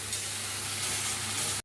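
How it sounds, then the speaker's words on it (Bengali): Meat with spices sautéing in oil in a pan, giving a steady, close, dense sizzle that runs unbroken for under two seconds before stopping abruptly. "এবার ভালো করে আমি কষিয়ে নেবো, যতক্ষণ না তেল ছাড়বে ততক্ষণ আমি কষিয়ে নেবো ভালো করে।"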